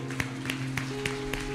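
Congregation clapping in a church service, a few sharp claps spaced through a steady hum of organ or keyboard tones, faint and somewhat distant.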